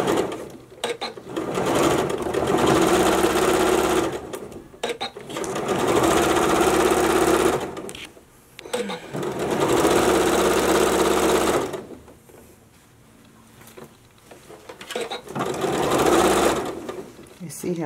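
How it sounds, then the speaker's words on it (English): A sewing machine stitches an old t-shirt into a two-piece outfit in several loud, steady runs with short pauses between them, while people talk over and between the bursts. "Is that quarter stitched already?"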